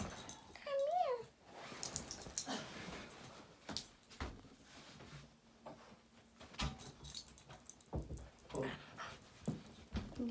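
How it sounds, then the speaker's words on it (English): Two dogs whimper and yip close by in short, uneven bursts, with a high whine early on and scattered jangling and shuffling sounds between. "These are my dogs."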